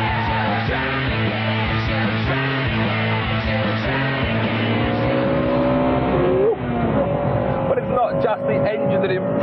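Front-wheel-drive turbocharged car driving, its engine a steady loud drone with shifting harmonic pitch, rising in tone toward the end, accompanied by music-like tonal layers throughout.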